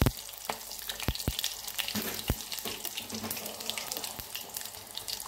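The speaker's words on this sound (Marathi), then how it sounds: "हे बघा ह्याच्यामध्ये मिरची, शेंगदाणे, काळी मिरी टाकली. त्याच्याला थोडंसं फ्राय होऊ द्यायचं." Chili, peanuts and black pepper fry in a pan with a close, crackling sizzle and sharp pops scattered throughout, no talking.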